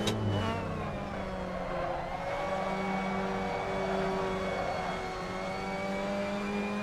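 Mazda MX-5 Cup race car drifting at Martinsville in a racing video game, a steady engine drone with shifting tonal whine held at high revs throughout, fairly loud with no voices.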